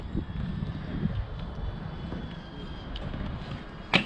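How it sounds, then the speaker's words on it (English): A small racing drone flies overhead near an open BMX track, its thin high whine running steadily at a distance beneath wind noise and low rumble, with a brief louder burst near the end. "I hear a drone."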